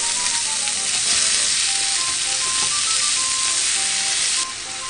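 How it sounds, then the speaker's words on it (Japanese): Pork and onions stir-frying together in a lunchbox pan, a loud steady sizzle with continuous crackle and faint high tones from start to finish, no voices. "お肉に半分ぐらい火が通ったら玉ねぎをどんと入れて、炒め合わします。"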